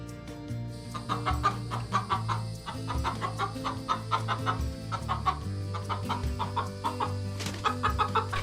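Chickens in the farm coops of a Florida historic park cluck in busy, overlapping bursts, near and fairly loud, with occasional sharper squawks and a low steady hum underneath.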